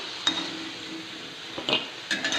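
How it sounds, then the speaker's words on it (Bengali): Fried potatoes are lifted from a wok onto a small plate over a steady background sizzle of hot oil. A few metallic scrapes and clinks of a utensil against the pan cut through the frying. "আমি এই যে একটা ছোট প্লেটে আলুগুলো তুলে নিচ্ছি"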